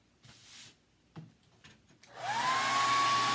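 A hair dryer switches on and blows steadily, drying a wet transfer for kitchen decor, a loud continuous whoosh with a rising whine after a few quiet handling taps.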